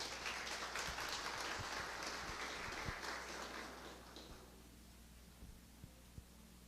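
Applause from an audience welcoming a speaker to an evening talk, a dense wash of clapping that fades after about four seconds, leaving only a few scattered claps over a low hum.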